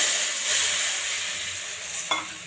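Tamarind water meets a hot pan tempered with five-spice and dried chillies, giving a steady close sizzle and hiss. A short sharp clink follows near the end.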